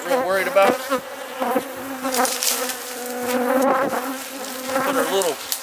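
Honeybees swarm around an open hive box during queen rearing work, a close, dense buzzing that rises and falls in waves with shifting pitch and no talk over it.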